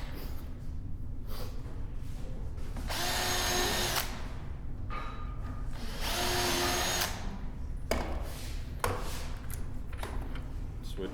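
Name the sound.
power drill driving screws into a wooden chair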